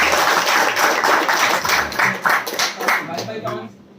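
A crowd at a comedy show claps in a quick burst of hand claps for several seconds, and the claps thin out toward the end, with voices mixed in.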